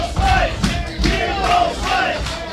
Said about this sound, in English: And the fans stomping and clapping in unison for Willie Mack.